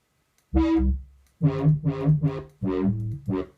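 Heavy, distorted synth bass with a growling resonant filter, played in several sustained wobbling notes separated by brief gaps, loud and upfront.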